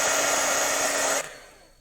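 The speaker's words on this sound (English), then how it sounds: "Goes a lot faster when your heat tool's already hot." A heat tool blows hot air to emboss a sentiment on a slimline card, a steady whooshing drone that cuts off abruptly near the end, leaving a brief fading tail.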